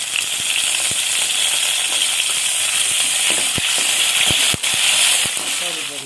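Curry leaves dropped into hot oil for a village-style Tamil screw fish (thirukkai meen) curry, giving a loud, steady, close sizzle and spatter with occasional sharp pops and stirring clicks.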